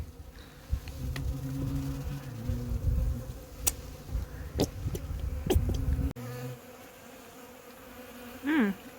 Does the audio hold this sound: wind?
no